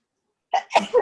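A single close, sharp sneeze in a quiet room, with a short breathy intake before the burst.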